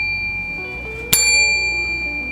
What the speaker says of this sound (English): please don't forget to hit this bell